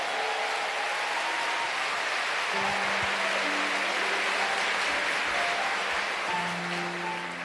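Church congregation applauding during a Catholic charismatic worship gathering, a steady wash of clapping that fills the whole clip at an even, moderately loud level.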